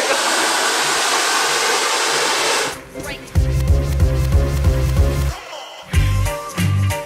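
A hair dryer blows hot air to melt pomade into hair, a loud steady whooshing rush that cuts out partway, then gives way to rhythmic music.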